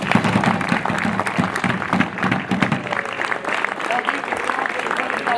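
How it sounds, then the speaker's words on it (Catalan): Crowd applause at a historical reenactment of the War of the Spanish Succession in Capçanes, loud steady clapping from many people that tapers slightly, with voices talking over it near the end. "un aplaudiment"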